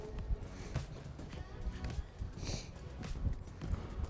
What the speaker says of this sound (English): Just start to canter a little bit.